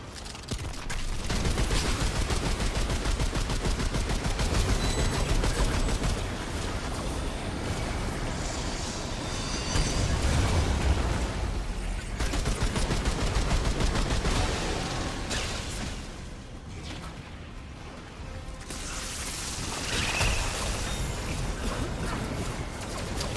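Sustained gunfire in Remnant 2 during an Apocalypse-difficulty fight, with dense rapid shots and fusillades running almost continuously and a short lull partway through.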